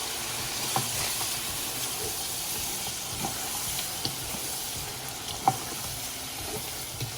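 Garam masala and spices sautéing in a pan for beef kofta curry, a soft steady sizzle with occasional scrapes and clicks of a spoon stirring, close and alone without talk.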